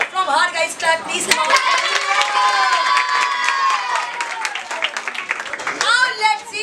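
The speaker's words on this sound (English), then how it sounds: "from our guys clap, please." An audience clapping and cheering during a role-play event at an English cafe, with a bright voice or excited calls carrying over the crowd noise throughout.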